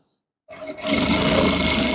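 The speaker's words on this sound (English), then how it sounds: "So you just top stitch." A sewing machine top-stitching Ankara shorts starts up after a half second of silence, then runs as a loud, continuous, close whirring hum for the rest of the clip.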